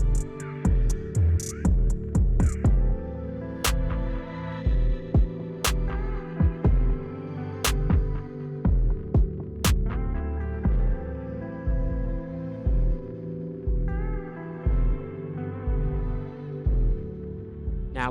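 A sewing machine stitches the center back seam of an A-line maxi dress skirt, running in rapid throbbing bursts with short pauses, close and loud, with occasional sharp clicks.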